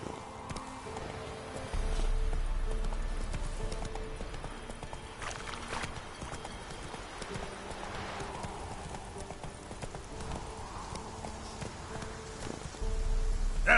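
Roach, the horse in The Witcher 3, gallops with a steady, close clip-clop of hoofbeats over a continuous low rumble of game ambience, with almost no speech.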